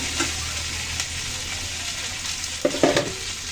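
Cauliflower, potato and tomato fry with turmeric in hot oil, a steady low sizzle throughout with a few stirring clatters toward the end. No talk over it.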